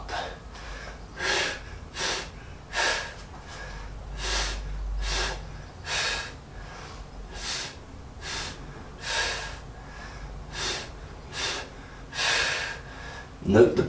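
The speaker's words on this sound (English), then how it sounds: "Note the breathing as well" Heavy, rhythmic breathing from someone mid-workout during an intermediate upper body and core session, with repeated sharp gasps and exhales at a steady pace, close and moderately loud.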